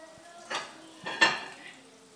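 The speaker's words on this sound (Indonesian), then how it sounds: "Kita siapin dulu piring." Plates and dishes being set out on a kitchen counter while pancakes cook, giving a few separate clinks and clatters of crockery spaced about half a second apart, fairly quiet and close, with no talking.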